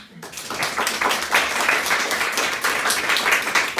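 Sustained audience applause at a training session on coaching, dense and steady from start to end, loud and close, with no talk over it.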